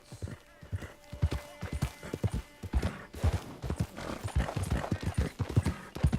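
Horse hooves clip-clopping in the open-world video game Red Dead Online, a steady loud rhythmic trot of strong low thuds with a brief whinny-like tone, carrying on throughout.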